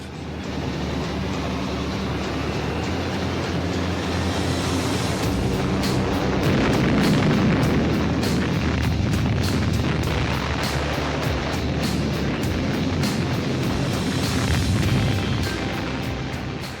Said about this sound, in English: The bombing raids dropped 400 tons of high explosive.